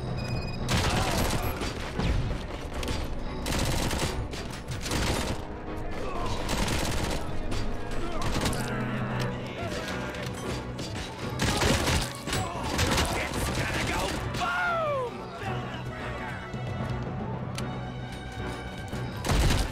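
Heavy gunfire and crashing impacts from the shooter RoboCop: Rogue City, with loud repeated shots, thuds and mechanical clatter running nearly nonstop, plus a few brief voice fragments mixed in.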